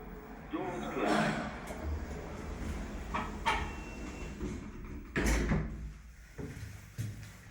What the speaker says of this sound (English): Doors closing.